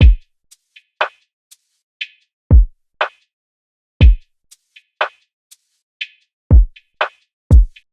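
A sparse lo-fi drum pattern with panned drum sounds repeats: deep booming kicks, crisp ticking hi-hat hits and sharp snare cracks in a slow, loose loop, played alone and clean.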